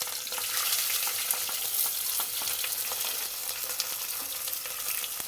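Tomatoes, onion and chillies frying in hot oil with mustard seeds and curry leaves for poha: a steady, loud, crackling sizzle with fine spitting pops throughout and no voices.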